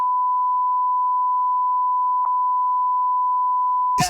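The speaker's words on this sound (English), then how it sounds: "Beep, beep, beep." A steady censor beep tone runs continuously for about four seconds, loud and unbroken, cutting off abruptly into a short burst of noise at the end.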